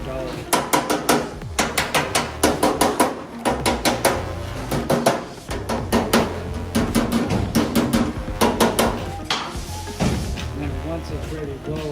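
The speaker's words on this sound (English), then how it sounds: "you need a hammer and dolly" Hammer and dolly shaping a metal fender flare on a Ford Mustang, sharp ringing metallic blows in quick bursts and clusters, loud and close.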